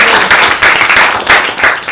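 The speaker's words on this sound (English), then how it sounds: "everyone will receive a round of applause before and after" An audience at a hydrogen workshop applauds a speaker, a steady wash of many hands clapping in a conference room, fairly loud and continuous throughout.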